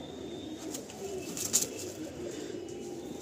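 Giribaj pigeons in a loft in Kolkata give soft, low coos against a steady background hum, with a brief sharper sound near the middle.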